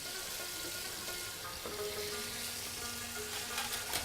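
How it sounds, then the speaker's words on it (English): Food pan frying on a low flame gives a soft, continuous sizzle with faint crackles, quiet and even throughout with no talking. "So he's going to pan fry this on a low flame."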